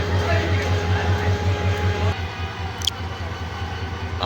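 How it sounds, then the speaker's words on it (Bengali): A train pulls slowly out of Joydebpur railway station bound for Mymensingh: a steady low rumble and engine drone, close and continuous, easing slightly partway through, with faint background voices. "আস্তে আস্তে ট্রেনটি ছেড়ে যাচ্ছে। জয়দেবপুর রেল স্টেশন থেকে ট্রেনটি ছেড়ে যাচ্ছে।"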